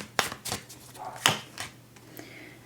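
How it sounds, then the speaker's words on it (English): A few sharp dog barks ring out in quick succession, then a couple of softer yips trail off, fairly close by in a quiet room. "My dog won't stop barking."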